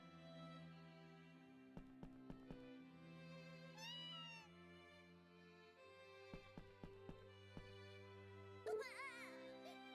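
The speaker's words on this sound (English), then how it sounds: "Wanna play with the cats?" Cats in the farming video game Story of Seasons A Wonderful Life, a few clear synthesized meows over soft tonal background music, with light plucked notes between them.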